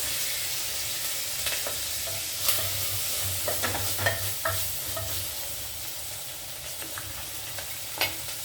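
Curry leaves and green chillies frying in hot oil, a steady close sizzle with scattered crackles and pops and a low stirring scrape running underneath.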